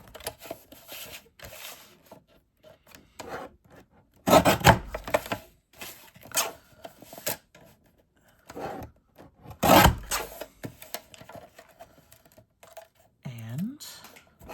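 Scratch paper left over from embossing is cut down at a card-making desk: two brief, sharp slicing rasps stand out over soft paper rustling and handling noises, close and otherwise quiet.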